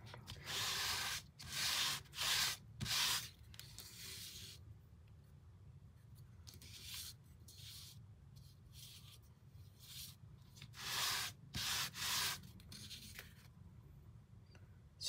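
Dry rubbing strokes of blue colour being worked over the top of an embossed papercraft image, coming in bursts of close, scratchy swipes separated by quiet pauses.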